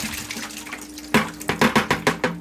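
Carbonated water poured into a container for dissolving Sulawesi shrimp salts: a faint steady wash gives way to a run of about six loud, rhythmic glugging splashes close by, with no talking.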